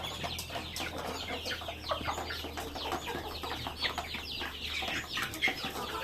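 Young Rhode Island Red chicks and turkey poults cluck and peep busily while eating, a constant chorus of short calls close by over a low steady hum.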